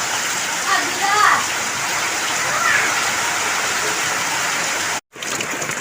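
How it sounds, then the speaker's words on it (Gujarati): Heavy monsoon rain pours down in a village courtyard while runoff water rushes across the yard, a loud, continuous broadband roar that cuts out abruptly for a moment near the end. "હજી પણ ચાલુ છે વરસાદ પણ બહુ જ વરસાદ છે"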